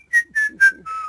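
A person whistles a short run of four clear, high notes, close and loud, imitating whistling at night, with no talking over it.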